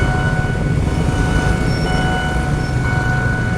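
A train approaches on a street in Bangkok, a loud continuous rumble of rolling wheels with a steady mechanical drone and brief higher squeals.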